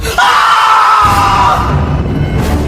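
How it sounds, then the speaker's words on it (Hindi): A single loud, piercing scream rings out and echoes through a house in a horror story, sustained for about a second before it fades into a reverberant tail. "ऊपर पहुंच के कमरे का दरवाजा खोलते ही उसकी एक चीख उस घर में बहुत जोर से गूंजी।"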